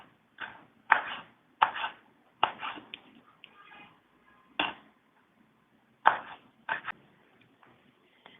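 Black plums being chopped for a salad, a sparse series of sharp knife strikes on a cutting board, single and paired chops with pauses between, close and fairly quiet.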